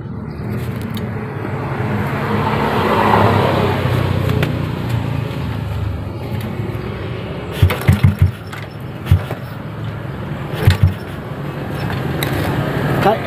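An old Honda Supra X motorcycle is kick-started by hand: a few sharp, close kick strokes land in short bursts over a steady background rumble, and the engine does not clearly catch.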